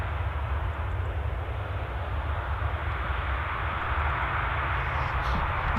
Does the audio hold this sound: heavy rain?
no